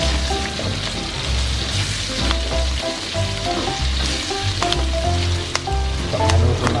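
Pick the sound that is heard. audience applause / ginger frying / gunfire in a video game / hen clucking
ginger frying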